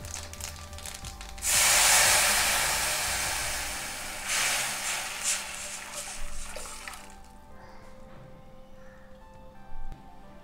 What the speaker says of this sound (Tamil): நீங்கள் ரசத்தை அப்படியே இதில் ஊற்றிடலாம்